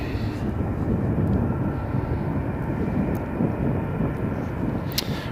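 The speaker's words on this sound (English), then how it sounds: "so that's Ryanair just departed" A Ryanair airliner departs from Riga International Airport in freezing, snowy weather, a steady broad jet roar held close and loud throughout, with faint wind buffeting and no talk.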